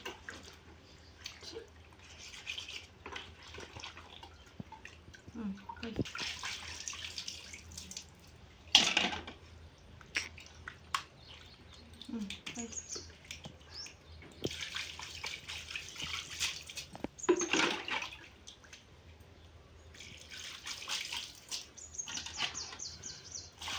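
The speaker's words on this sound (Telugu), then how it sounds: "ఇక నేనైతే ఈరోజు చేపలు కడుగుతున్నా ఫ్రెండ్స్." Water is poured and splashes in bursts while fish are washed by hand, with intermittent trickling and sloshing between quieter pauses, close by, and a few sharp knocks in between.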